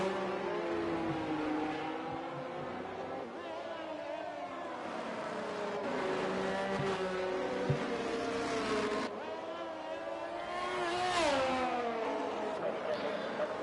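A Ferrari Formula 1 car laps the Hungary circuit in a racing video game, its high engine whine rising and falling through gear changes, heard steadily beneath a commentator talking.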